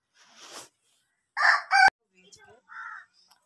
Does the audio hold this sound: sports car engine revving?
no